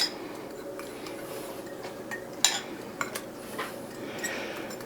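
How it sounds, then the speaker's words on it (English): A fork stirs fats into a keto chow mix in a bowl, giving faint, scattered clinks and taps of metal on dish over a quiet background. "Let me get a fork because I want to stir that up. I want to stir my fats in with my keto chow mix."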